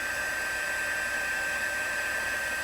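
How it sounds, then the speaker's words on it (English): A heat tool blowing hot air to melt embossing powder on a handmade card, a steady, even whoosh of fan and airflow held at constant level throughout, close and alone with no talking. "Let's get the heat tool again."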